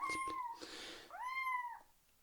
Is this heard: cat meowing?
yes